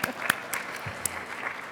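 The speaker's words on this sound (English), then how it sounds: "give yourselves a warm round of applause for that" Conference audience at a plenary session gives a brief round of applause, with scattered, fairly sparse claps heard from a distance in the hall.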